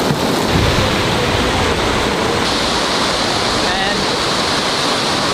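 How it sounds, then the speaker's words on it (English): Heavy rain pours down in a loud, dense, continuous hiss with no breaks. "there comes the rain"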